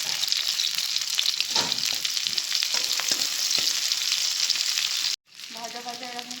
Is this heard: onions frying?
yes